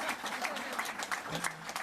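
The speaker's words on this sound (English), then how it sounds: "on peut applaudir 100 millions de dollars" Audience applause at a press event announcing a 2SLGBTQI+ action plan, a soft continuous patter of clapping heard at a distance with faint voices mixed in.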